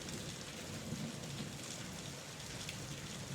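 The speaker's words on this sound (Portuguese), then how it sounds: "Se você está gostando dessa atmosfera sombria ao som da chuva" Steady heavy rain pours continuously with a low rumble of thunder rolling underneath, dense and even throughout, with no voices.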